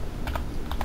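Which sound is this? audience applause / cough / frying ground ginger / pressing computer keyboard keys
pressing computer keyboard keys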